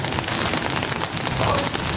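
Steady rain falls on succulent plants and flowering Vietnam rose in a garden, a dense, even patter of drops continuing throughout without a break, fairly loud and close, with no voices.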